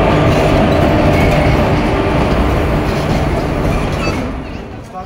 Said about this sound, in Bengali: সেখান থেকে ট্রেন আসলে উঠে পড়বো।